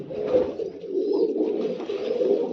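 Pigeons, among them a green-eyed hen, coo in soft, low, throaty rolls that repeat and overlap nearby, a steady murmuring call with no talk over it.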